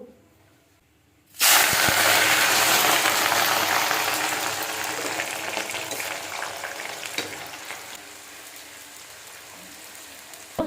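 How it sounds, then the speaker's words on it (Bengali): Loud sizzling of onions frying in hot white oil in a kadai starts abruptly after a brief quiet moment, then continues steadily with crackling and occasional stirring scrapes. "বেরেস্তা মতো করে পেঁয়াজগুলো ভেজে নিয়েছি"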